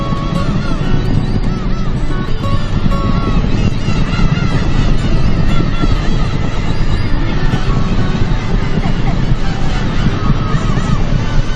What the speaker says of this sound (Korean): 괭이갈매기들의 울음소리가 밤하늘을 가득 채웠고